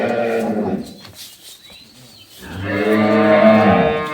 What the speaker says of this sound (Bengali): এটা হচ্ছে গাভী ছয় দাঁত বয়স চোদ্দ লিটার দুধ